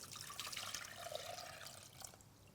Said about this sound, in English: So just cover all that up with some water, and you're basically going to make a tea, a nice sweet tea.